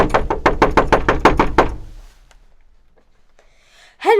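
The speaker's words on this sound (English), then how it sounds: "He awoke to loud knocking." Loud wooden knocking on a shipping crate holding a man, a radio play sound effect: about eight rapid, evenly spaced knocks up close, then a short quiet pause before a brief sound at the end.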